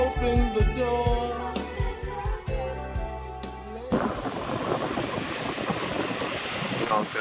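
Small ocean waves breaking on a South African shore: a steady, broad wash of surf rises after a few seconds of rhythmic music and continues to the end, with no talking.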